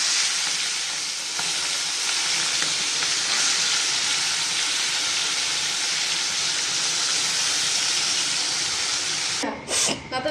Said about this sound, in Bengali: এবার তেল গরম হয়ে গেছে, এবার আমি চিংড়ি মাছগুলো অল্প হালকা হালকা করে ভেজে নেব।